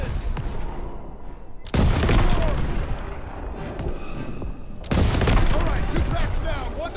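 Heavy battlefield gunfire and booming shots in the WW2 shooter Call of Duty WW2, sniper rifle among them, loud and continuous with two sharp surges of blasts amid a constant rumble of combat.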